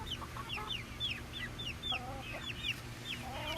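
Young chickens cluck and peep repeatedly in a small pen, a near, busy run of short calls over low background hum.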